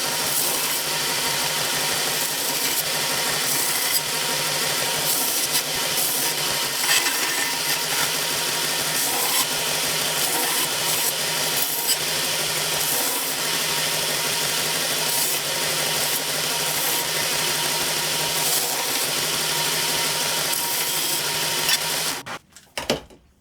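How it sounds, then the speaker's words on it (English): A belt sander running a fresh 120 grit belt while cleaning up the bevels of a handmade knife blade, a dense, steady grinding roar that holds for the whole stretch before cutting off abruptly at the end. "I put a brand new 120 grit belt on my sander here, and I'm gonna see if I can clean up these bevels a little bit"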